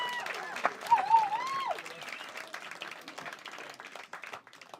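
Audience clapping at a comedy club for a comedian, quieter and thinning out, with a voice speaking over it early on and the applause tapering near the end.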